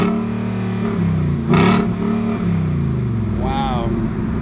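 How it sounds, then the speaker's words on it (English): A 2018 Ford Mustang GT engine idles with a deep, steady exhaust rumble, then briefly revs up loudly and settles back down, with a short whine near the end. "now we're gonna actually go ahead and get an exhaust clip"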